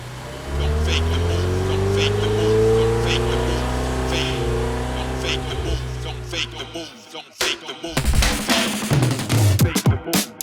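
A damaged supercar's engine hums in a loud steady drone for several seconds, then gives way to irregular clattering noise and nearby voices.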